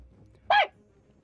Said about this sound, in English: He barks. You don't even have to do anything.